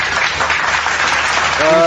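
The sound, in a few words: audience applause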